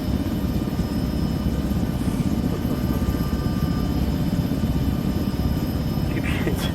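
A helicopter in the video game Arma 3 drones steadily with a loud, continuous rotor roar through the night-time town operation, constant from start to end.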